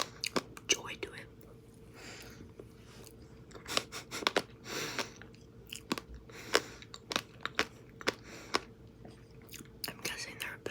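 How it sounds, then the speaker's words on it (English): Close, soft chewing of a sprinkle-topped cupcake, with crisp crunchy bites and wet mouth sounds repeating irregularly, interspersed with quiet whispered talk. "I feel like chewing sounds way louder in your head than it actually does."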